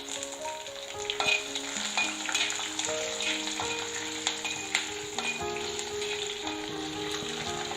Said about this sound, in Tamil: பூண்டு சேர்த்து ஒரு நிமிஷத்துக்கு அப்புறமா நம்ம இதுல ஒரு 3 பச்சை மிளகாவை சேர்த்துக்கலாம்.